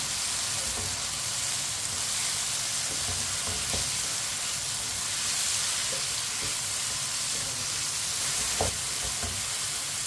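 Chopped onions fry in a pan for making pyaz ki sabzi, a steady broadband sizzle running throughout with occasional soft scrapes and clicks as they are stirred and mixed, close and continuous with no talking.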